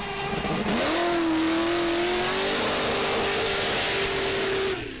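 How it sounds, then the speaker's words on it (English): A GM LS V8 engine in a drift car revs up sharply and holds a loud, steady high-rpm tone for several seconds before dropping off, with a faint tire squeal. "The old GM LS motor."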